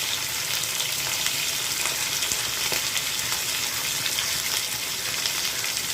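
Chicken liver and spleen fry in a pan with turmeric and curry leaves, giving a steady, close, continuous sizzle that crackles evenly throughout.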